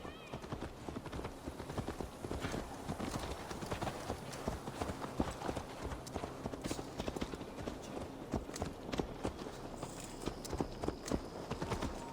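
Horse hooves clip-clop steadily in Assassin's Creed Valhalla, a continuous walking rhythm of close, moderately loud hoof strikes with a brief whinny and some ambient game sound behind.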